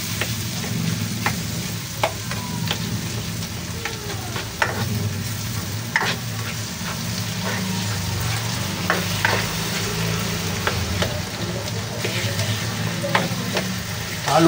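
Tomatoes being stirred as they cook down into sauce for sarsiyado boneless bangus: a steady pan sizzle and bubbling under repeated sharp scrapes and clicks of a utensil against the pan, close and continuous throughout.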